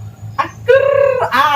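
A rooster crows loudly and close by, one drawn-out cock-a-doodle-doo with a short clucking note before it and a trailing call after, over a low background hum.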